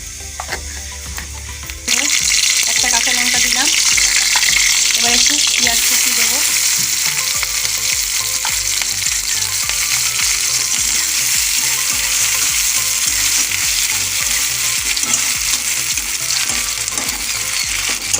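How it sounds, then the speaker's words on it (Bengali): Nigella seeds sputter in hot oil in a wok, a loud, dense sizzle that bursts in after a quiet start and holds steady, with faint scraping and clinks from stirring mixed in. "এবার কড়াতে আমি তেল দিলাম আবারও এবার একটু কালো জিরে ফোড়ন দেবো"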